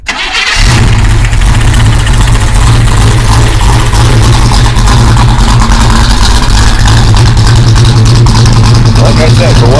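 A 1969 Chevrolet Nova SS396 big-block V8 cranks and fires up, then settles into a loud, steady, throbbing idle close by, with a voice talking over it.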